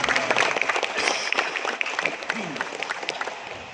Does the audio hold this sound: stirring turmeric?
no